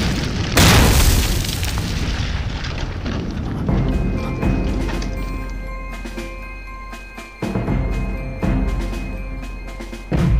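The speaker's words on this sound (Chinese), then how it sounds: "咱每天都是听着他们的枪炮声睡觉。" Gunfire and artillery blasts from Japanese military night exercises: a heavy boom erupts near the start, followed by sustained rumbling, crackling bursts and further thuds, loud and continuous with no speech.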